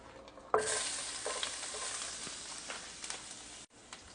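Garlic sizzles and crackles in a hot pan for chicken Alfredo, a loud burst of frying starting sharply and continuing steadily, with stirring scrapes, then cutting off briefly near the end.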